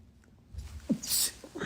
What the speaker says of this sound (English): Excuse me, I usually sneeze.